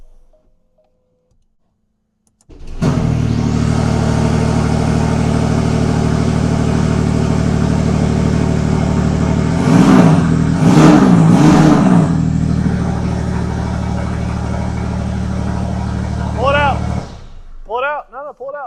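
A Porsche 992 GTS with a Soul Performance exhaust cold-starts with a loud flare of revs, then settles into a steady, booming high idle that swells briefly mid-way before the engine shuts off with a few ticks.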